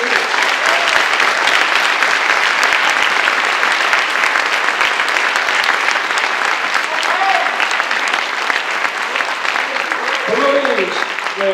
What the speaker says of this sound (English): let's have a round of applause for our newly promoted students